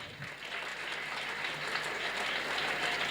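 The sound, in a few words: students applauding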